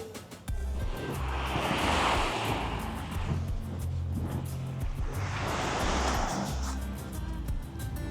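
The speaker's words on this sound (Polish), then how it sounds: "jedyna miejska plaża w Bari" Waves breaking on the city beach in Bari, two broad surging washes of surf rising and falling steadily, close and fairly loud with some wind buffeting the microphone.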